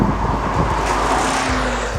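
An SRT Viper's engine roars loudly and close as the car accelerates hard, a dense continuous growl with a tone that rises steadily across the pull.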